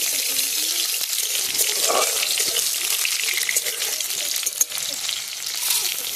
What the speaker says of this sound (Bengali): আর দিয়ে দেবো কাঁচা লঙ্কা জিরা। না বাবা, এগুলো একটু ভেজে নেব।